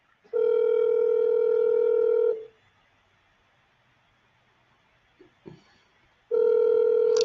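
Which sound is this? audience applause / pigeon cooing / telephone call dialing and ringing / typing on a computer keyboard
telephone call dialing and ringing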